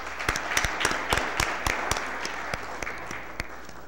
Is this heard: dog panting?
no